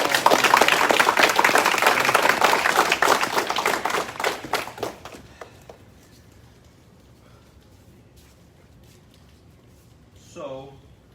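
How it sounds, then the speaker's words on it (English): An audience at a martial arts black belt promotion claps and applauds loudly for several seconds, then the clapping thins and fades out, leaving near-quiet with a brief faint voice near the end. "Big round of applause."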